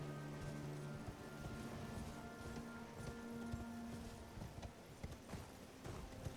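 A horse gallops across the terrain in the video game Elden Ring, its hooves producing a quiet, steady run of clip-clop beats under a low background wash.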